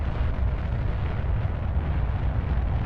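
A rocket engine ignites in the Kerbal Space Program video game and fills the space with a dense, continuous low roar, loud and rumbling throughout, with no voices over it.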